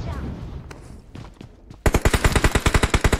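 Rapid automatic gunfire in the BGMI mobile battle royale game breaks out after quieter in-game ambience, a loud, steady burst of evenly spaced shots near the listener lasting over a second.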